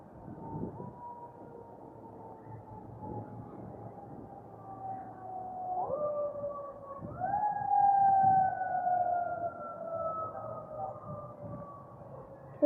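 An emergency vehicle siren wails steadily from a distance during tenkara fishing in Nebraska, its tone stepping up in pitch as it passes and then slowly sliding down again, with faint outdoor ambience beneath.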